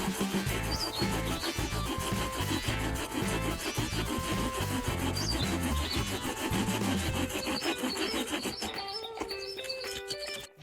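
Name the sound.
handheld manual chain trimmer cutting down a small tree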